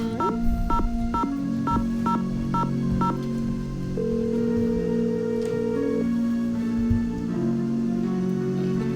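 A phone number is keyed in Nancy Drew: The Haunted Carousel, a quick, evenly spaced run of seven crisp touch-tone beeps followed by longer steady electronic tones as the call connects.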